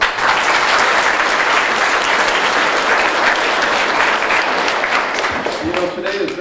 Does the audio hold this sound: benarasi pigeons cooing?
no